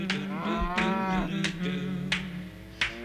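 A cow moos several times in quick succession, each call low and drawn out, with farmyard background around it.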